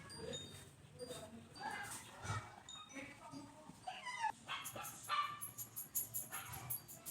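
A dog barks, yips and whimpers in short irregular bursts, close by and moderately loud, mixed with a person's voice.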